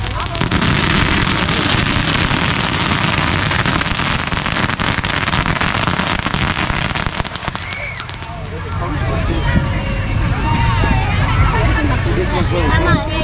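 Fourth of July fireworks display: a steady crackling, popping barrage with whistling rising shells near the end, under crowd babble and nearby voices.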